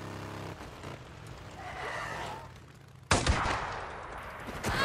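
A sniper shot in the video game Days Gone, one sudden loud crack with a rolling tail that breaks through quiet, rumbling ambience partway through.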